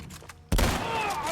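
A single loud shotgun blast in the game The Last of Us Part 1, a sudden heavy boom after quiet, ringing out with a long decaying tail.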